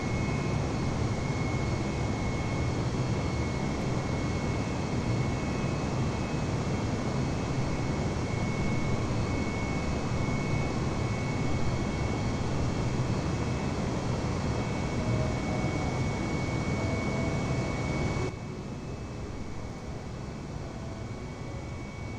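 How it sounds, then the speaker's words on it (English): A steady, loud roar of airliner engines at takeoff throttle in Flight Simulator 2020, leaving Sharm El Sheikh airport. The broadband rumble holds level, then drops slightly near the end. "Let's get that throttle up as we take off"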